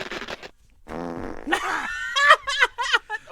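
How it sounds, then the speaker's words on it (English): Close, loud farts: a short sputter, then a long, drawn-out rumbling tone and a few quick bubbly blasts at the end. "you have the most refreshing farts I've ever had"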